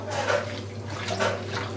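Water running steadily from a tap during hand washing, a continuous splashing hiss with slight swells, close by.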